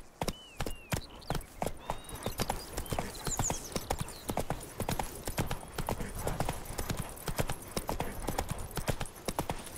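Roach the horse galloping in The Witcher 3, a fast, steady run of hoof clip-clops close up, with a brief snort or whinny near the start and game sounds underneath.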